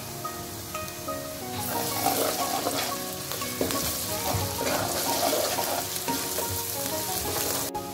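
Onions with ginger garlic paste frying in a karahi for a white beef malai karahi, a loud continuous sizzle and crackle with stirring scrapes throughout, no voices.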